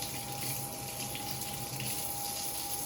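Room-temperature tap water runs steadily from a faucet as a bowl is filled in a kitchen, a constant close gushing with a faint steady hum underneath and no talking.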